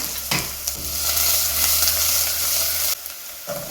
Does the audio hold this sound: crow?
no